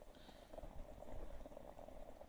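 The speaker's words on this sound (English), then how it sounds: "sound of good coffee being made" A Bialetti Moka espresso pot brews coffee on a stove outdoors in the woods, giving a faint, steady gurgling and bubbling hiss as the last water pushes up through the pot.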